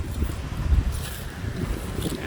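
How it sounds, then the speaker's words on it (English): Strong wind gusts on an open West Virginia mountainside, a steady close roar buffeting the microphone with no one speaking. "Boy, that wind is kicking up."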